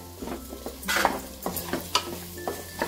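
Potato pieces sautéed in hot oil for a vegetable pulao, with close sizzling and scraping stir strokes recurring every half second or so, plus a few sharp spoon clicks against the pan.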